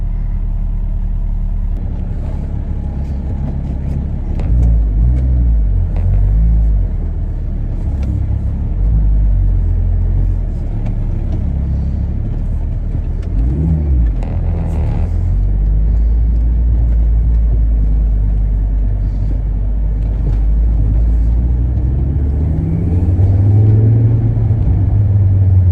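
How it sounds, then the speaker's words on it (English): A Volvo V70R is driven on the road, its engine giving a loud, steady low rumble heard from inside the car. The engine swells now and then as it accelerates, with road noise throughout and no talking. "Let's take the Volvo. Check it out. It's a V70R with no warnings."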